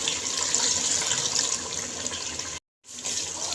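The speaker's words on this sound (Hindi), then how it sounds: "2 गिलास पानी मैंने इसके अंदर डाल दिया है" Water pours steadily into a pressure cooker as two glasses are emptied in for a desi chicken shorba, a continuous close splashing flow with a brief gap between pours.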